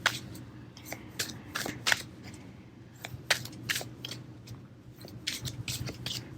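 Tarot cards being shuffled by hand, with crisp riffling bursts and soft scraping that come in irregular clusters over a low steady background hum; the cards are jamming a little, giving uneven, stuttering flicks.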